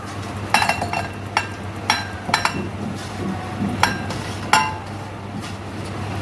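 Pieces of raw mango pickle drop and clink into a large steel bowl, a series of sharp metallic taps at uneven intervals, about a dozen in all, over a quiet low hum.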